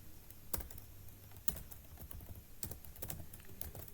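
Rapid typing on a computer keyboard while writing code, close and quiet, with irregular clusters of crisp key clicks and no speech.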